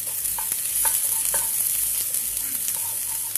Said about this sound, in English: I'm going to add the garlic. Let that cook for a minute or so.